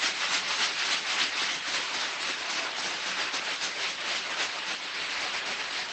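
Two people shake bags of ice by hand to churn homemade ice cream, giving a steady, dense rattling hiss that runs without pause, loud and close, with no talking.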